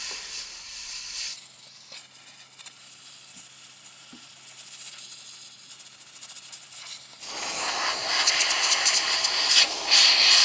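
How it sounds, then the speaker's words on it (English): Small household steam cleaner warming up during a motorcycle stripping job, a steady soft hiss that runs for several seconds before swelling into a louder, brighter rush of escaping steam. "the hissing you can hear is our little household steam cleaner, which is just warming up"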